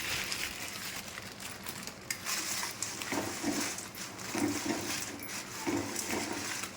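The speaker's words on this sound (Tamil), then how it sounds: "அப்படியே திருப்பி திருப்பி போட்டு வறுத்துக்கலாம்." One kilogram of long dried red chillies is stirred and turned in a hot pan as they roast, making a steady, dry, rustling scrape that runs throughout at moderate loudness, with no talking.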